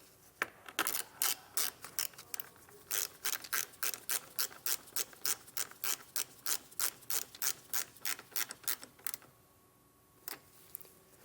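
A ratchet with a 10mm socket tightens a ground eyelet during a Firestone Ride-Rite air bag compressor install on a 2022 Ford F-250, a steady series of close, crisp clicking strokes ending with a pause and one last click.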